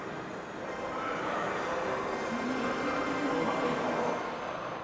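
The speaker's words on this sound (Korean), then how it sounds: "옛 남광주역 부근에 새롭게 들어선 지하철" A subway train runs near the old Namgwangju station in Gwangju, a steady rumbling roll of wheels and motor that swells slightly midway and holds at a moderate, fairly distant level.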